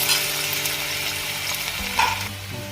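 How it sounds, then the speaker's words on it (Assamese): Finely chopped potatoes fry in a pan with fenugreek seeds, giving a steady close sizzle with a few stirring scrapes and clatters, no voices. "এতিয়া আলুখিনি আমি 2 মিনিটমান ভালদৰে ভাজি ল'ম।"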